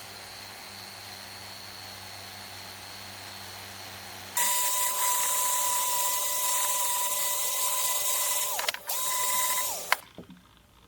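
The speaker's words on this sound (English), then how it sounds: "I'm just going to relieve it with the sander." A power sander starts up with a sharp whine while relieving a hawse pipe hole in a boat deck, running loud and steady before dipping briefly and cutting off after a quieter mechanical hum.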